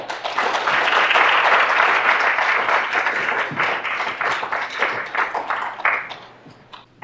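Audience applause welcoming speaker Janice Carlisle at a university lecture celebration: a dense, steady wash of many hands clapping from the start, holding for several seconds before thinning into scattered claps and fading out near the end.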